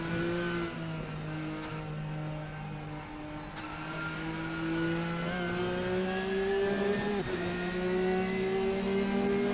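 A Viper race car engine drives past in Assetto Corsa, its steady mid-pitched drone rising and swelling as it comes close. Other engine noise runs underneath.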